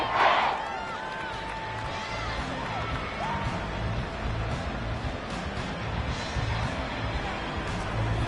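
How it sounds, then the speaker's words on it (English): A huge crowd at Arrowhead Stadium roars steadily through an American football game, a dense, loud wall of cheering and shouting that swells slightly and holds for the whole stretch with no single voice standing out. "The Arrowhead crowd in full roar"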